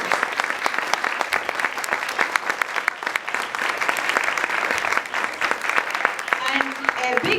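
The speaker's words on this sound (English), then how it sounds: "A big applause to all our Pragya teachers." Spectators at a children's annual day event give a sustained round of applause for the teachers, crisp and fairly close, with scattered voices toward the end.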